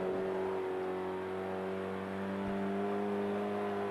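Renault Megane engine in the racing game Forza Motorsport 5, a steady droning hum held at constant revs throughout, continuous and fairly loud with no speech.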